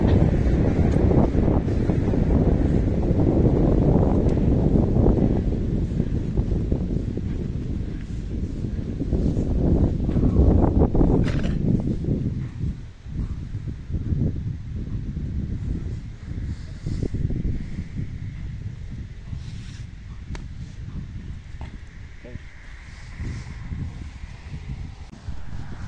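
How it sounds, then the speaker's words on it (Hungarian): Steady wind rushes and buffets the microphone throughout, a continuous low roar that eases slightly in the second half. "most is van egy kis gyenge szél"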